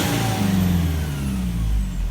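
A car engine hums steadily with a rising, revving tone, loud and close, with no voices; a fault with code P1601 is present.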